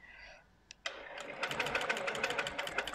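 Sewing machine stitching a quilt starts up after a brief pause and runs steadily, a close, rapid mechanical chatter of needle strokes.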